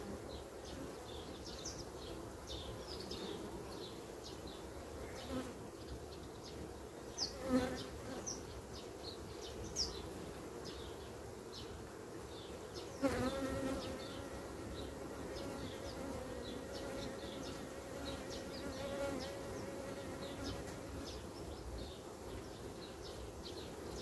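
Honeybees hum in a dense, steady drone inside a crowded hive, close and continuous, with a few faint bird chirps and soft knocks now and then.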